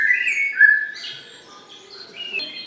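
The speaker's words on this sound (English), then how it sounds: "Yes, birds." Small birds chirping and tweeting outdoors in nature, several bright calls overlapping in a continuous, moderately close chorus with no talking.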